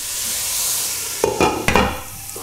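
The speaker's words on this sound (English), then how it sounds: "Just giving that a quick mix." Onions and celery sit sizzling in a pot for a chicken casserole, then a few quick scraping stirs cut in near the end, close and moderately loud, with no talking.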